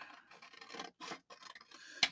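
Scissors cut through paper, probably an envelope, in a quiet indoor crafting setting, giving short close snips and scratchy strokes with brief pauses, ending on one sharp snip.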